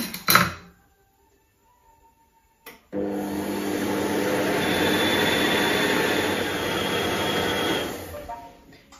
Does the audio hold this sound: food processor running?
yes